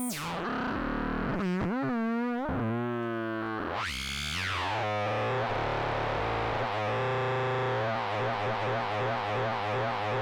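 Warbling sine-wave tones from a modular synthesizer sweep, wobble and pulse continuously with a wide, shifting stereo character, steady in loudness and with no voices.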